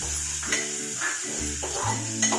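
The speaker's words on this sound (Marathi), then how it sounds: "तो टाकायचा आहे आणि चांगला परतायचा आहे तो फोडणीवर" Soft sizzling of tomato sautéing in hot tempering oil in a pan, with a spoon stirring and scraping against the metal in short bursts.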